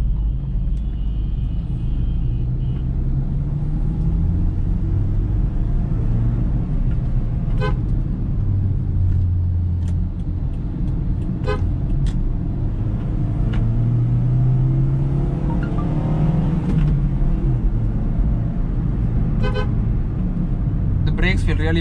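A 2009 Maruti Ritz petrol hatchback in second gear, its engine and road rumble droning steadily throughout, with a few brief horn-like toots and someone talking over it.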